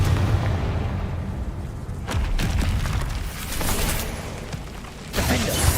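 Confringo explosion spells in Hogwarts Legacy, booming blasts that burst out of a steady roaring din, with a couple of sharp hits and a final loud blast near the end.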